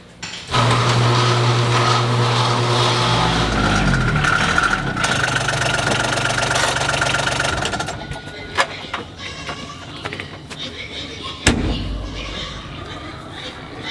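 A small Gator utility vehicle engine runs with a steady low drone for several seconds, then cuts out, leaving scattered knocks and clatter.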